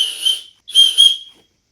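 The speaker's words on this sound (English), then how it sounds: "Oh, it's got a whistle." A small plastic whistle built into a backpack's chest strap is blown twice, two shrill high-pitched toots close up, the second longer, with no talking.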